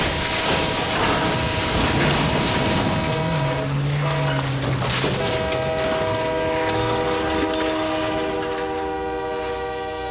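Train brakes screeching at railroad tracks, a loud, sustained metallic squeal with whistling harmonic tones over heavy rumbling, rising and holding for several seconds before easing.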